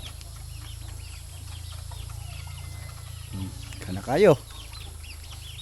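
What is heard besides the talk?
chickens clucking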